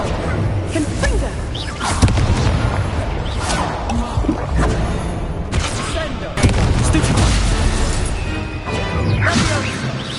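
Confringo spell blasts in Hogwarts Legacy: loud crashing explosive bursts hit repeatedly among whooshes and impacts, with sharp peaks near the second and sixth seconds and voices mixed in among the clatter.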